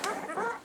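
A week-old Labrador puppy whimpers softly, giving a short, continuous whiny cry close by with no talk.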